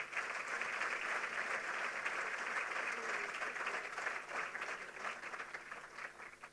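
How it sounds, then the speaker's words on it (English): An audience at a CARICOM heads of government meeting gives a sustained, fairly distant round of applause for athletes bound for Paris, evenly dense throughout and thinning slightly at the end. "I'd like to invite you to give a round of applause to all our athletes representing us in Paris"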